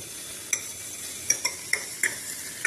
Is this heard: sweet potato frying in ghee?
yes